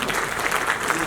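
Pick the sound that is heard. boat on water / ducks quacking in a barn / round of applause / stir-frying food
round of applause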